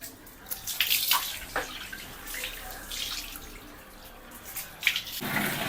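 Water runs and splashes while hair is washed at home, an uneven, fairly loud gush with bursts of splashing and a louder surge near the end, no talk.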